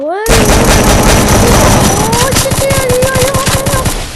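Rapid, loud automatic fire from an M418 gun in a mobile shooter game rattles on without pause, with game effects and music tones layered over the bursts.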